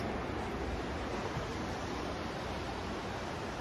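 Ocean waves roll onto a South Carolina beach at sunrise, a loud, continuous broadband wash of surf with no distinct breaks, steady throughout with no voices.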